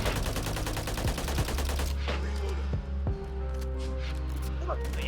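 Modern Warfare III guns firing in Call of Duty: rapid continuous automatic bursts, loud and close, then a few separate heavy shots over a low rumble, with a voice talking across it.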